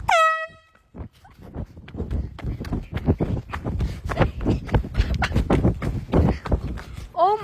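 An air horn blasts loud and close for under a second outside a house, followed by rapid running footsteps and heavy breathing as someone flees, ending with a brief second honk.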